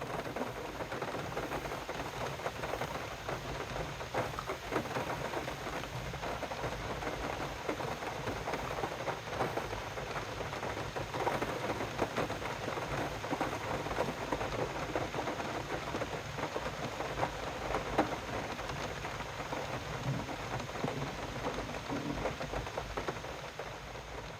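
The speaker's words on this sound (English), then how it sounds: "the sound of raindrops falling on a cabin's metal porch roof" Steady rain patters on the metal porch roof of a cabin, a dense, even hiss of drops with faint rumbling underneath, unbroken and fairly loud throughout with no voices.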